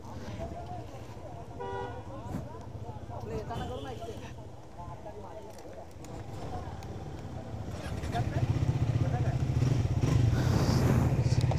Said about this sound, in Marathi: ही गाडी घेतोय ट्रायम्फ स्पीड 400